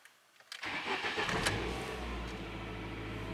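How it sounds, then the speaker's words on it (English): A Ford Escort ZX2's engine cranks after a moment of quiet, catches, and settles into a steady, close idle with no talking. "Alright, so let's start up the ZX2."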